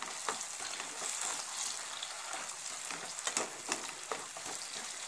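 Tomatoes frying with onions cooked until dark for a Hyderabadi meetha nathili ka salan, a close, soft and steady sizzle and crackle with faint stirring scrapes.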